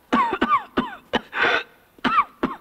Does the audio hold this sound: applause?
no